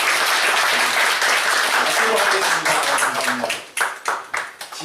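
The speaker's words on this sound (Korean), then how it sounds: "우리 박수로 수고하셨습니다" Audience applause after a talk at a church seminar, a steady dense clapping filling the room for several seconds before thinning into scattered claps.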